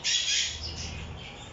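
Young ornamental bird chicks in an aviary squawk with a close, loud rasping call at the start that tapers into weaker, fainter squawks.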